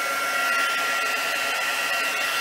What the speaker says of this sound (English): I have got my heat gun here, and I'm going to put it on the high heat